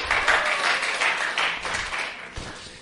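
Audience applause for a performer named Nata at a church gathering, a steady wash of clapping from many hands that swells and fades slightly over a few seconds.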